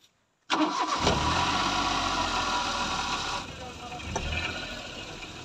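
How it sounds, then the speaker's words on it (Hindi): A car engine cranks and catches after a brief silence, then settles into a steady, loud idle close by during a beginner's driving lesson. "सबसे पहले तो मैंने स्टार्ट करूँगा अभी।"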